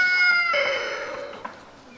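Chickens in a backyard coop with a rooster nearby give a close burst of high, tonal squawking calls that hold for about a second and then trail off into quieter scattered clucks.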